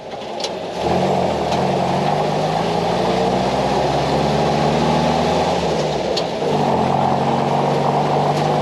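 A loud, steady R2087 truck engine rumble with a throaty exhaust blowing noise from the exhaust pipe hitting the side bin, rising slightly in pitch and briefly dipping before resuming.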